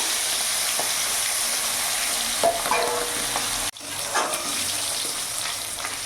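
Rohu fish heads frying in hot oil seasoned with salt and turmeric, a loud, steady, dense sizzle with a sudden brief dip and brief bursts of spattering.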